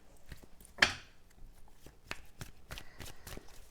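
Tarot cards riffled in a quick shuffle, one sharp crisp burst of card flutter near the start followed by softer scattered taps and slides of the deck, close and alone without talk.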